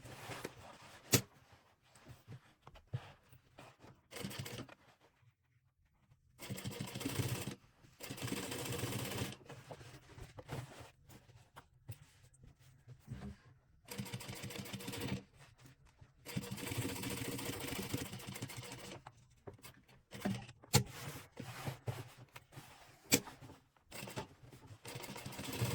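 A sewing machine stitches the side seams of a fabric shopper bag in repeated whirring runs of several seconds each, separated by short pauses, close and steady.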